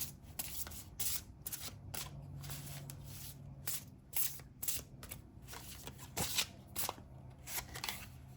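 Tarot cards being shuffled by hand during a card reading, a steady papery riffling with repeated soft slaps and flutters that swell and fade in bursts, close and clear with no talk.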